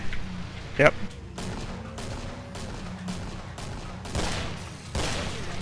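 Gunfire in the video game Killing Floor: a quick run of sharp shots and booms in irregular bursts. A player's voice can be heard in the mix.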